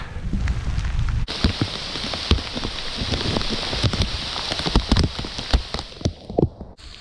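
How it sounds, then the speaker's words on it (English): Heavy rain pours down steadily after a brief quieter start, with dense hiss and scattered close drops striking a surface. "Oh, it's gonna rain hard."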